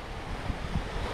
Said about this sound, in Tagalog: Malakas ang dagat.